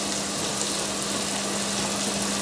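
Sausages sizzle in a hot pan with assorted bits tipped in for an onion gravy, a steady, even hiss of frying that holds at moderate loudness throughout, with no voices.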